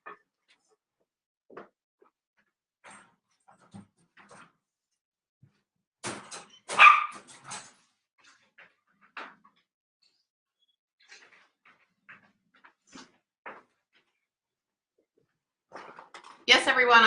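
A dog barks indoors: mostly quiet, with scattered small knocks and movement, a short burst of barking midway and another bark near the end.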